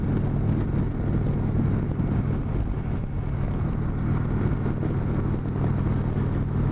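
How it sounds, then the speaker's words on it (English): A 2019 Indian Chieftain Dark Horse motorcycle cruises around town, its steady low engine drone blending with constant wind rush across the microphone. "Man, I just love the way these motorcycles ride."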